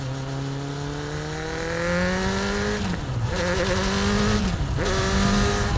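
Custom open-wheel trike powered by a Kawasaki Ninja 900R motorcycle engine, revving hard and climbing in pitch, with two brief drops as gears shift before it pulls strongly again, loud and close.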